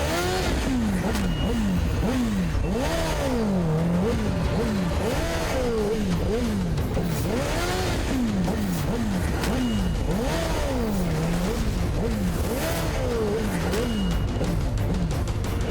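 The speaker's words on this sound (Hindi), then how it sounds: "अरे ये हॉल के बाहर इतनी जोर से बाइक की आवाज कौन कर रहा है?" A motorcycle revs loudly outside a wedding hall in a long run of rising and falling throttle blips, each rev sweeping up and back down. The engine is close and aggressive and continues without pause.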